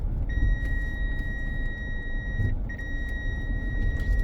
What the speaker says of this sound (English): That beeping sound that you hear, that's just a sensor, a feature of the Mazda 3.